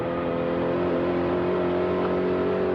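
The engine of Peter Brock's Holden Commodore race car drones loud and steady on the Bathurst circuit, holding a sustained tonal roar heard from inside or close by the car, with no talk.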